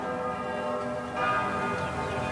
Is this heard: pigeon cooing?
no